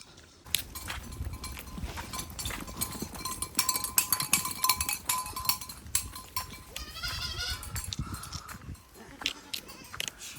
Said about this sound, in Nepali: बाख्रा आइपुग्यो घरमा